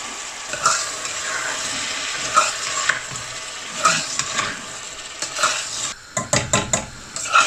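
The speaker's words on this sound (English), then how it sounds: "Now I'm going to add the vegetable." Washed vegetables go into a hot pot for chicken khichuri, giving a steady sizzle with repeated scraping and clinking of a spoon against the pan.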